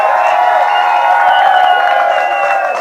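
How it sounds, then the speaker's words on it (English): Crowd at a tow-in surfing finals event in Geneva cheering loudly for the winning pair, a dense steady roar of voices and whoops held throughout. "Make some noise for Flying Frenchman, Sam and Steve!"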